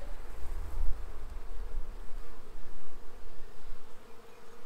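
A honeybee swarm hums with a dense, steady buzz during a hive frame inspection outdoors, the drone continuous and fairly close, with low rumbling handling noise underneath.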